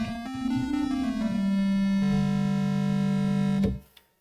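Subtractive synthesizer tone with reduced even harmonics, shaped to imitate a woodwind instrument: one steady, reedy sustained note with a slight pitch wobble early on, ending with a brief click after it cuts off, heard alone.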